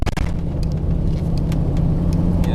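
Truck driving over bumps in the road, a loud close engine rumble with sharp thumps and rattles at the start, then a steady drone; no talk.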